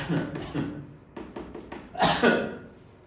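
A teacher coughs repeatedly during a math lecture, several short harsh bursts ending in a louder, heavier cough.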